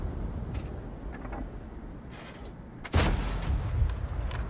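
A JagdPzIV tank destroyer's cannon fires once in a tank game: a single heavy, booming shot midway through that cuts in over low rumbling engine noise, with a faint thud or two earlier.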